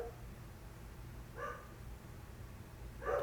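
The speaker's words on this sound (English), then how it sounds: "And now my dogs are barking." Household dogs bark in short bursts, two faint yips about a second and a half apart, off in another room over a low background hum.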